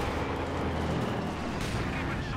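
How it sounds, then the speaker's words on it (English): A high-explosive shell strikes infantry in the World War II strategy game Company of Heroes 2, a dense, sustained rumble of artillery and gunfire blasts filling the battlefield with steady low-end roar. "the high explosive that hit the Grenadier"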